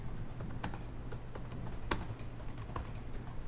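A spreadsheet formula is typed on a computer keyboard as a quiet, close run of uneven key taps over a low steady background hum, with no speech.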